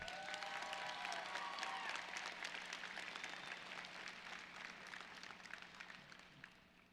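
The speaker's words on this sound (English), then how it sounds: "Can we give them another round of applause?" Applause from a graduation audience after a performance, broad and fairly distant clapping that fades gradually, with a steady low hum underneath.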